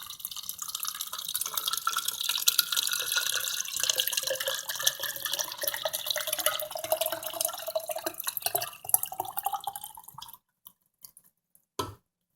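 Coconut water pours steadily into a blender in a continuous splashing stream for about ten seconds, stopping abruptly with a couple of faint drips after.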